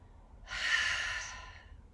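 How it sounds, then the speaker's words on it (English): One slow, audible breath rises out of near silence, swells to a soft breathy hiss and then fades away, close to the ear. "Notice the sound and the noise that your breath creates, that noise on the inhale."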